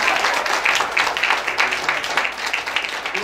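Crowd applause fills the space continuously, a dense wash of many hands clapping at steady loudness, with some voices faintly audible beneath.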